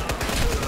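A brief, fast burst of machine gun fire in the game Final Bullet, with rapid repeated shots packed tightly together, loud and close, lasting under a second.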